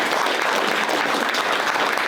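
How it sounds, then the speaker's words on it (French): An audience at a Gex talent awards ceremony applauds the president of the Gexoise, a dense, even burst of clapping that fills the whole short moment with no voices above it. "Un gros applaudissement pour le président de la Gexoise."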